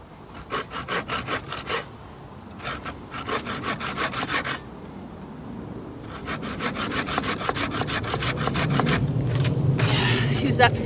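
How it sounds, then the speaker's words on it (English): A hand saw cuts through the thick end of a wooden pole for bushcraft shelter tripods, with rapid rhythmic rasping strokes in several bursts. Short pauses separate the bursts, and a low rustling backdrop builds toward the end. "I think I'll saw the bigger end off."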